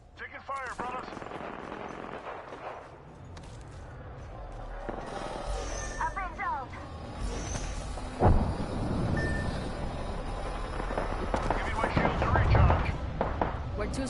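Video game gunfire aimed at the player, with sharp gunshot cracks and bursts of fire sounding alongside other game effects and busy background noise, while people talk over the action.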